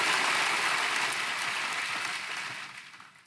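A church congregation applauds their praise and worship team during a Sunday service, a dense, steady wash of many hands clapping that holds for a few seconds before thinning and fading out.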